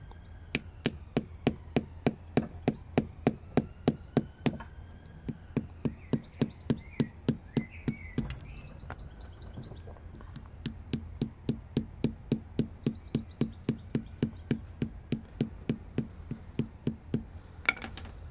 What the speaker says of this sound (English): you're going to need to hit it with a hammer quite a lot before you can actually break it